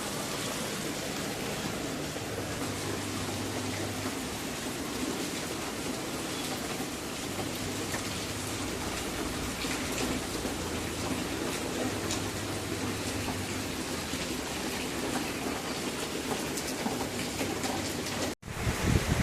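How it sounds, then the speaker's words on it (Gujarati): Dense, steady hiss of heavy rain pouring down, unbroken for the whole stretch, with a faint low hum underneath. "બહુ વરસાદ આવે છે"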